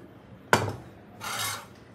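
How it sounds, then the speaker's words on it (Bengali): A pot of freshly boiled milk is set down with a single sharp clunk on a hard surface, followed a moment later by a short scraping slide, with nothing else heard around it. "দুধটাকে এখানে নামিয়ে রাখলাম"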